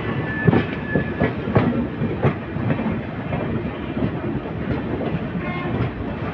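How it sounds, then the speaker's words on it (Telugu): East Coast Express from Hyderabad to Shalimar pulling into Nidadavolu Junction, a steady loud rumble of railcars with rhythmic clickety-clack of wheels over rail joints throughout, no voices. "హైదరాబాద్ నుండి షాలిమార్ వెళ్ళే ఈస్ట్ కోస్ట్ ఎక్స్ప్రెస్ అయితే వస్తుంది."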